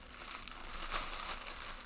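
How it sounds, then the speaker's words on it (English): Soft crinkling and rustling of greaseproof paper packaging as a parcel is opened, a brief continuous crackle, quiet and close, with no talking. "I can see and feel a lot of rustling."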